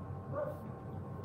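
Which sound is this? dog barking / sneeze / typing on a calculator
dog barking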